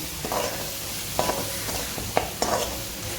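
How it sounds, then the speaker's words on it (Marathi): Green paste of ginger, garlic, coriander and a little mint being stirred in a pan for chicken tandoori, with a soft steady sizzle broken by several distinct scraping strokes of the spoon, close and alone. "ही जी ग्रीन पेस्ट आपण केलेली आहे ती घालणार आहोत अद्रक लसूण कोथिंबीर आणि थोडीशी पुदिना ती पण ह्याच्यामध्ये चांगली मिक्स करून घ्यायची आहे"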